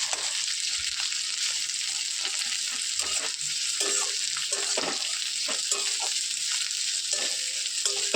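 Onion and green chilli fry in oil in a pan, giving a continuous bright sizzle close by, with faint stirring scrapes and small knocks mixed in and no speech.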